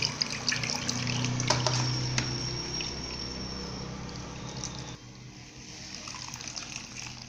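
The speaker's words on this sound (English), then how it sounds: "You have to hold the edges of the cloth together and allow it to drain out." Thick tiger nut milk drains through a cloth gathered at the edges into a bowl, a soft close trickling and dribbling of liquid that tapers off partway through and leaves a quieter, fainter flow.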